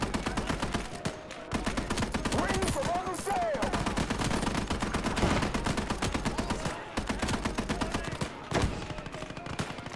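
Rapid machine-gun and rifle fire in the World War II game Gates of Hell, dense continuous bursts with brief pauses, loud and close, with a few voices shouting under it.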